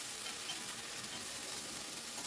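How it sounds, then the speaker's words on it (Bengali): Ginger paste with salt frying steadily in a pan for a mung dal fritter dish, a continuous close sizzle with no gaps and no voices. "আদাটাকে একটু কষিয়ে নেব, আদার কাঁচা ভাবটা যেন চলে যায়।"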